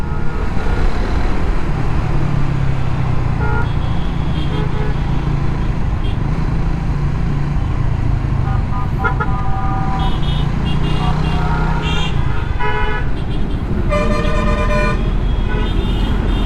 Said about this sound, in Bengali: রাস্তার মাঝখানে সেকেন্ড লেনে গাড়ি বাস দাঁড়ায় আছে